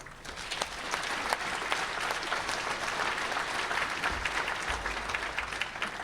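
An audience at a talk on reconciliation applauds to welcome a speaker, with steady, fairly distant clapping that holds evenly for several seconds with no talk over it.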